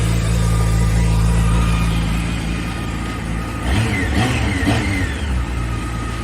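A Honda CB600F Hornet with a liquid-cooled 599 cc inline four-cylinder engine, derived from the CBR600, runs with a steady low drone, then climbs through a couple of rising rev sweeps near the middle before settling again.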